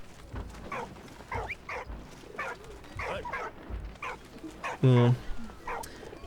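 A dog in the World War I game Valiant Hearts: The Great War barks in a series of quick yips and woofs, with one louder, longer bark late on, while someone briefly speaks over the game sounds.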